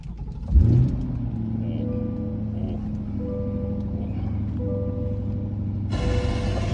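A Corvette C8 fires up with a sharp starter crank and a burst of revs, then settles into a loud, close, steady idle rumble that runs to the end.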